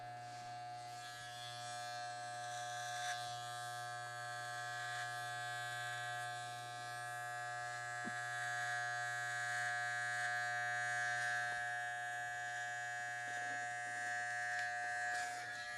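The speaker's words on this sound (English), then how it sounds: "We're going to touch the clipper very lightly to the neck." An electric hair clipper hums steadily and close throughout, a continuous buzzing drone with faint shifts as it is touched lightly to the back of the neck below the hairline during a haircut.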